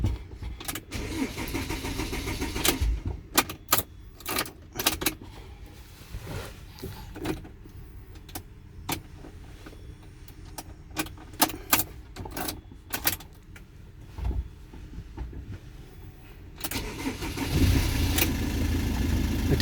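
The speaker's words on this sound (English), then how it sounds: "Now you can try to start the car." A 2019 Peugeot Boxer van engine cranks and starts after all-keys-lost key programming, with clicks, key and switch noises and intermittent bursts before a steadier engine run near the end.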